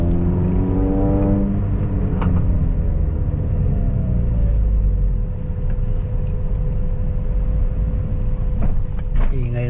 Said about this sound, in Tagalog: Ingay ng muffler ito